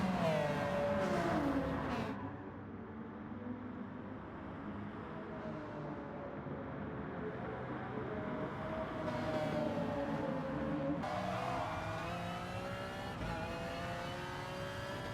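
Race car engines in the GT Sport video game, a continuous high whine that sweeps up and down through gear changes, steady and fairly loud with no break.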